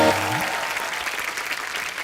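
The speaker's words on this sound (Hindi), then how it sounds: "एक बार हमारे चैंपियंस के लिए खुल के तालियां हो रही।" Studio audience applause for kabaddi champions on a comedy talk show, a thick continuous roar of clapping from a large crowd, loud and steady after a short musical sting at the start.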